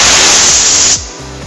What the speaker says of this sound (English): An OSHA-approved blow-off gun with adjustable airflow control.